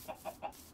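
Three quick, evenly spaced clucks from a chicken in the Minecraft video game, close and clear with nothing else behind them.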